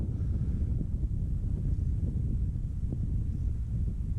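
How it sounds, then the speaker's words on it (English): Wind buffets the microphone during a bushwalk in the dry Winton Wetlands: a continuous low, rumbling rush with no other sounds and no voices. "The only noise out here now is the wind as it rushes past my ears"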